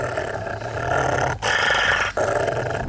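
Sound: Rottweiler dog growling

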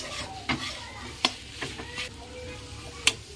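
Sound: red amaranth greens frying in pan

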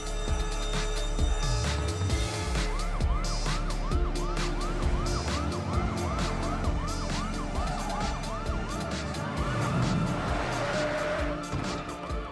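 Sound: police sirens in video game Grand Theft Auto V

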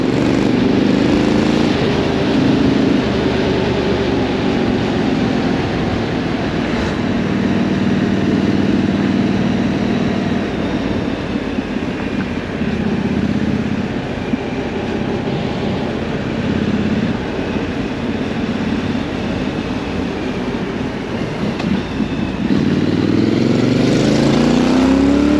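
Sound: Triumph Scrambler 900 motorcycle engine while riding

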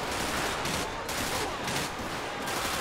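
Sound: gunfire in video game GTA 5

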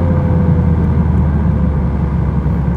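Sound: Honda Civic FK7 manual gear change while accelerating

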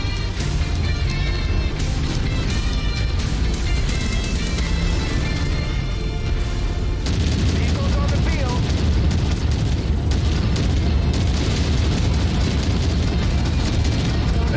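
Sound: explosion barrage in video game MechWarrior 5 Mercenaries

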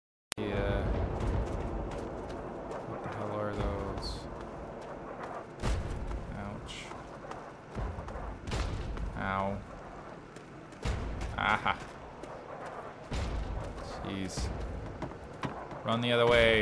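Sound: explosions and gunfire in video game

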